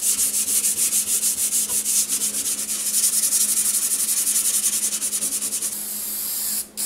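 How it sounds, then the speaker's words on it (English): A wooden cabinet door joint is sanded by hand with 320 grit sandpaper, a steady, close, rhythmic back-and-forth rasping that runs continuously and ends with a short scrape. "then used 320 grit sandpaper"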